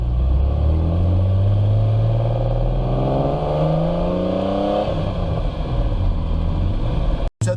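A Long Beach Blue 2005 Acura NSX on the road, its engine droning loud and close as revs climb in rising sweeps and then settle, with a brief dropout at the very end.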